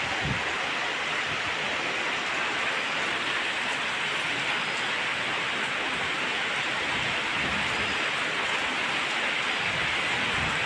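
Heavy rain pours down in a dense, steady hiss, loud and unbroken throughout.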